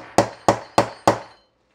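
A hammer striking a snap-setting tool on a stormtrooper armor snap, four sharp evenly spaced whacks about a third of a second apart, close and loud, with no talking.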